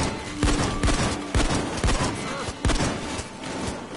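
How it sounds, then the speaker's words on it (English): Rapid shotgun blasts from a PS4 shooter game, a shotgun with a drum magazine, booming in quick irregular bursts over dense clatter and background game noise, close and loud. "your shotgun has such good fire rate"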